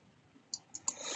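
Two or three quick, faint computer mouse clicks while drawing with the pen tool in Photoshop, followed by a soft rustle, close and quiet.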